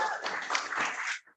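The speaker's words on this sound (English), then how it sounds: "So a little round of applause from us." A short burst of clapping from a small audience at a live financial summit, a brief flurry of hands that cuts off after about a second.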